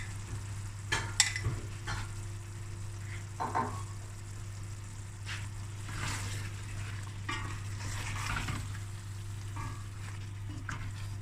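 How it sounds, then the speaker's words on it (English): Two cans of baked beans stirred into a chicken curry in a pan, with a steady sizzle and frying hiss and occasional soft scrapes of the spoon. "Now I'm going to add 2 cans of baked beans."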